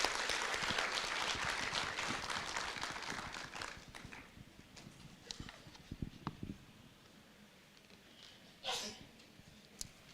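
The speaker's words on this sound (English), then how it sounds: "Now, with a warm round of applause," Applause at a morning conference session, loudest at the start and thinning out over several seconds into scattered claps and room noise, with a brief swell near the end.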